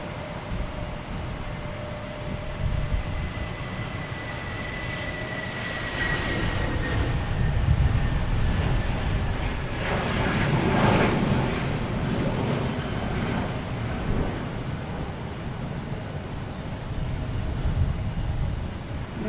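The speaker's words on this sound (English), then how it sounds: "we got American heading to Philadelphia at A319" An American Airlines A319 at Boston Logan Airport roars past with a broad, rising and falling jet rumble, swelling to a peak midway and lingering with faint tonal whine as it recedes across the airfield.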